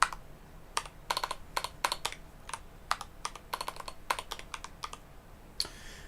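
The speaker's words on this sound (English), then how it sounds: "I keep pressing the wrong fucking key on the keyboard" Typing on a computer keyboard during work in Unity, crisp close key clicks in irregular bursts and short runs, with brief pauses between, no voices.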